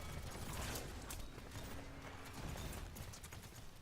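Hooves of a flaming horse mount in the Paladins video game clip-clop steadily amid clanking mechanical game effects, continuous and moderately loud with no talk.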